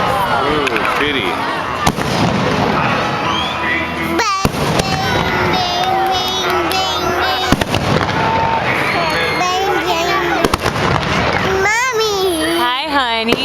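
Fireworks bursting at a neighborhood block party, a steady run of booms and crackles heard from a moderate distance, with a small child babbling and adults talking throughout.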